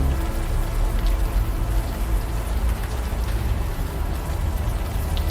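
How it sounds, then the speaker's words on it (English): Steady warm rain falls in the video game Unavowed, a dense, even hiss of drops at constant loudness with no voices. "the warm rain is coming down"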